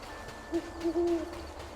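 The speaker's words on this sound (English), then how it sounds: "let's see if we can follow the sound of the owl and get as close to the hooting as possible" An owl hoots in the video game Death's Door, a short call followed by a longer drawn-out hoot, moderately loud over a soft ambient game background with no talking.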